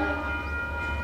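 The Canterbury Cruiser passenger train, a diesel locomotive hauling cars through Christchurch, gives a steady, loud low engine rumble with sustained tonal droning over it.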